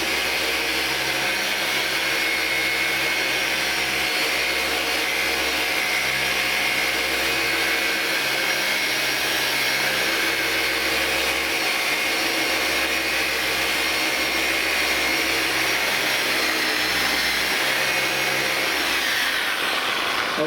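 A power polisher pad-primes a polyurethane plastic rigid bumper facia, droning steadily and loudly throughout with an even motor whine and no pauses.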